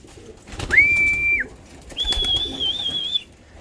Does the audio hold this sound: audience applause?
no